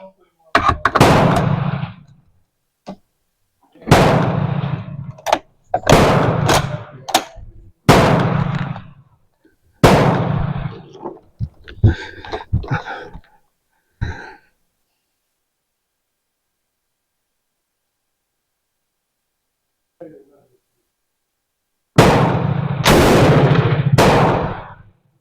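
A Bren MK2/MK3 machine gun loaded with ten rounds fires loud, sharp bursts in several separate groups, with short gaps and a long quiet pause before a final close burst.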